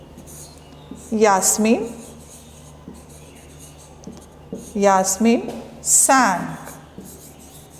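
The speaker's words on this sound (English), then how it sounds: "Now we will write answer over here." A teacher writing an answer on a classroom board, scratchy strokes in short bursts with quiet gaps between them, close and clear, with a voice speaking in between.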